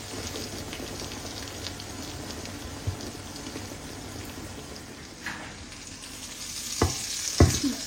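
A masala fried egg sizzles in a pan with a steady, fairly loud frying hiss, then a couple of sharp clatters near the end as it is turned over.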